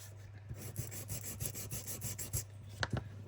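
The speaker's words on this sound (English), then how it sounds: "And then take our sander" A handheld sander rubs across paper tabs edged with washi tape, producing quick rasping strokes in a fast irregular rhythm, close and fairly quiet, with no speech.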